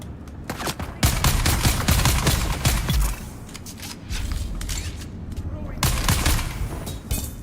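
Grenade blasts and gunfire rip through a Harkonnen battle in the game Dune, with loud, dense bursts of rapid shots and thuds that surge for about two seconds, ease off, then return, while a voice talks over the fighting.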